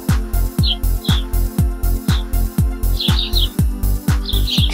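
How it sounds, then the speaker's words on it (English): Barn swallow song, a run of quick high twittering chirps and warbles repeated in close succession, set over a steady low rhythmic pulsing backing. "Barn swallow."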